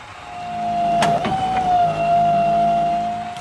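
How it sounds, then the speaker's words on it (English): A cartoon monster truck's engine and motor whir rise and settle, with a sustained tone, a few sharp clicks and a gliding whine over a steady rumble, loud and close, with no voices. "It's a monster truck."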